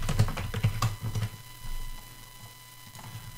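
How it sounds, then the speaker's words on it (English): Computer keyboard keys clatter in quick bursts as a username and password are entered at a cPanel login, a dozen or so close taps over the first second and a half followed by near quiet. "You enter your username and then you enter your password."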